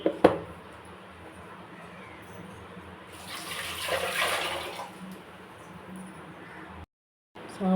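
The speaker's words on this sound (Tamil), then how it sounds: "சாம்பாருக்கு கொஞ்சம் தண்ணி ஆட் பண்ணிக்கலாங்க." Water pours into a pot of brinjal and raw mango sambar in a home kitchen, a steady rushing splash for a couple of seconds amid quieter stirring and clatter.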